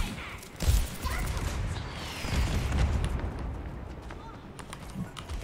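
Cannon fire in a shooter video game lands as one heavy, booming impact early on, followed by rumbling in-game noise and faint distant thuds, all at modest volume.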